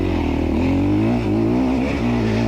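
Enduro motorcycle engine revving hard during a hard enduro race, clutch slipping and bike overheating in second gear; a loud, continuous close-up drone with rising and falling pitch and a brief dip near the end.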